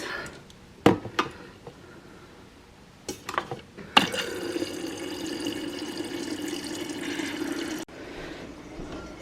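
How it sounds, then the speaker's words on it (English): Drinking cups being refilled from a kitchen tap: a few clinks and knocks of the cups, then a steady rush of running water for about four seconds that stops abruptly, followed by quiet room sound. "Time to refill your water cups, friends."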